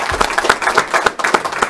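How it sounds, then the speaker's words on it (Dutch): A short burst of applause, a few people clapping in a quick uneven patter, close and fairly loud, lasting under two seconds. "Applaus waard."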